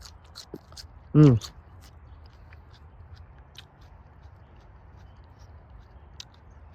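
One sharp, crunchy bite into raw, home-grown asparagus, close and crisp, with near silence before and after.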